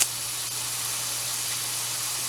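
Boneless chicken breast frying in a pan on heat setting 7 for teriyaki: a continuous, even hiss of steam and sizzle, fairly loud and close, with no talking.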